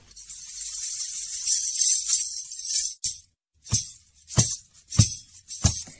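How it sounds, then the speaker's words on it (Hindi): Ghungroo ankle bells for a dance class, shaken in a long bright jingling wash, then struck in four separate jangling hits with short pauses between, close and clear. "मेरे डांस क्लास के लिए घुंघरू।"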